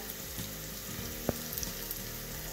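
Chopped tomatoes sauté in a pan for an Indian matki chaat, giving a steady, close sizzle and crackle throughout with one brief sharp knock partway through and no talk.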